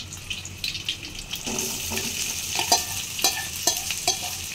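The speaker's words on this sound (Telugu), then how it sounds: "జీలకర్ర కూడా మసులుతున్నప్పుడు మనం కూడా కొన్ని ఆనియన్స్ వేసుకుందాం." Onions and cumin seeds fry in a pan on a kitchen stove, a steady sizzle with stirring scrapes and clinks running throughout, loud and close with no talking.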